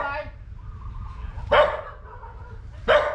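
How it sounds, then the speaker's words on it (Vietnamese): A dog barks twice outdoors at a slingshot gathering, with sharp, fairly loud barks spaced well apart and a murmur of voices beneath. "Giờ có con chó mình không dám vô mọi người."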